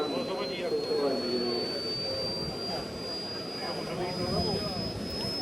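A large model jet aircraft, 260 cm long and about 15 kg, with a turbine engine giving 14.5 kg of thrust, whines and roars steadily throughout, while a voice talks over the engine noise.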